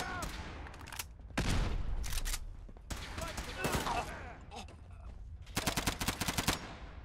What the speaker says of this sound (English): This gun is very powerful.